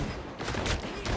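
Video game gunfire from a Blade character comes as a brief burst of several rapid shots over a busy game soundscape.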